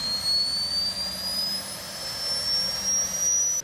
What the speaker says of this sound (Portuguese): O rugido de um jato no campo.